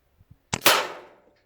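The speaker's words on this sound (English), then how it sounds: "here we have a Walther RM8 with the RS Diabolos inside of it" A Walther Rotex RM8 air rifle fires a single RS Diabolo pellet: a couple of faint mechanical clicks, then one sharp, close crack with a short ringing decay.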